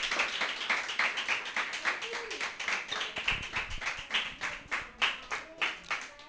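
A church congregation claps together in a fast, steady rhythm during a service, with sharp, close hand claps running throughout and some talk mixed in.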